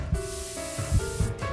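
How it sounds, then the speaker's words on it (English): A can of spray paint hisses in the horror video game Spirit Hunter: NG, a steady breathy spray broken by two brief gaps, over low sustained game music. "I take out the spray paint, reach toward the leg and start spraying."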